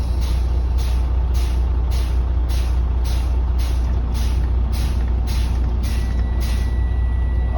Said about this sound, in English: I'm going to fan my brakes down to get it up under 100 psi